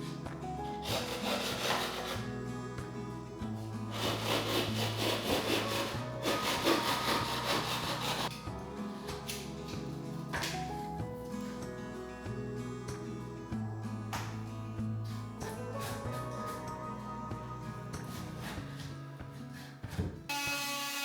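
An oscillating multitool cuts through plasterboard while boxing in stair balustrade posts, giving a steady, close buzzing saw drone that rises and eases in intensity for about twenty seconds with no talking.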